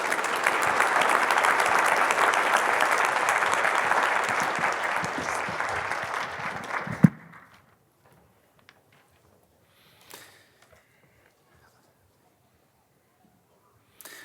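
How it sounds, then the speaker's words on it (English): An audience at a renewable energy summit applauds warmly for about seven seconds, then the clapping stops abruptly and the room falls almost silent apart from a few faint knocks. "Just a round of applause."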